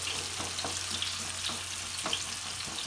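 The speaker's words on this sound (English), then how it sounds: "We're going to just a little bit saute this." Onion sizzles in a pan while being gently sautéed to translucent for stuffed eggplant, a constant close frying hiss broken by faint periodic stirring scrapes.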